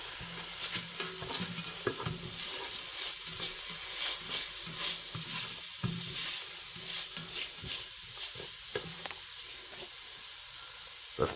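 Chopped onions with a splash of sauce sizzle and fry in a pan for pork adobo, with a steady hiss broken by repeated scraping stirs of a utensil, close and alone without talk.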